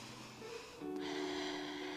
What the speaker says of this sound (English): We're just going to take 3 deep breaths.